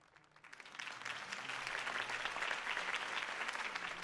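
A crowd in the Batman Telltale Series video game breaks into applause after Harvey Dent's campaign speech, the clapping starting soft then swelling quickly into a dense, sustained ovation.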